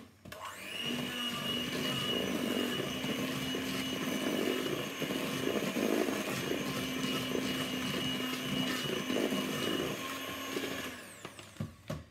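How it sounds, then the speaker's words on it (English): An electric mixer whisks egg and flour into batter, giving a steady whirring motor hum with a scraping, churning texture for about ten seconds before cutting off, followed by a few clinks. "Then we're going to whisk that in."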